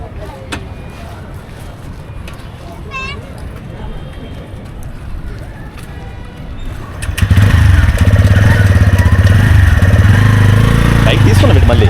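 Outdoor ambience with faint voices gives way to a motorcycle engine starting up near the end, then a loud, steady idle close by.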